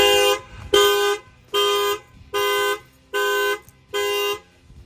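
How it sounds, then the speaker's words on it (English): A 2025 Lexus RX350 factory alarm honks the car horn in a steady repeating pattern, six evenly spaced blasts with short pauses between them, loud and close. "the factory alarm is going to set off"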